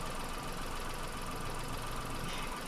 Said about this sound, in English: So observe the engine noise.